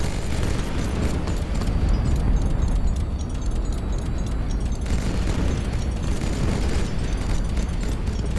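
Continuous rumbling blast and roar from a missile explosion in the strategy game Highfleet, a dense loud wash of low booming noise with no clear breaks.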